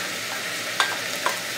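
Steady sizzling and crackling of chopped onion frying in hot coconut oil in a pot, with a couple of soft stirring clicks.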